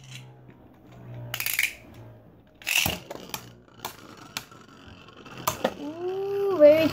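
Beyblade spinning tops launched into a stadium, with sharp metallic clicks and clacks as they collide in bursts, plus a brief voice near the start.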